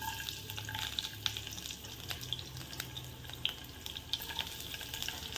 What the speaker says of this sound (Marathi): आणि त्याच्यानंतर मी त्याच्यामध्ये टाकणार आहे लसूण